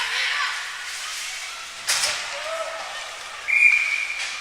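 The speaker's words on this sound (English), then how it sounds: "And now a whistle called" Referee's whistle at a U15 major ice hockey game: a sharp tone cuts through the arena hum midway, then a longer shrill blast near the end, rising over faint rink noise.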